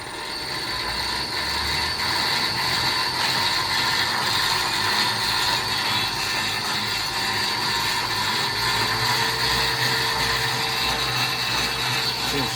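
An electric motor driven by a VFD runs up under a pneumatic air brake on a boxmotor truck setup, giving a loud continuous mechanical whir with steady tonal hums and a faint rattling, gear-like texture throughout.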